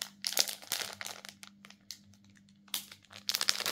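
Crinkly plastic packaging of a set of stylus pens being torn and pulled open by hand, with bursts of crackling rustle at the start and end and quieter handling in between, close up with no talk.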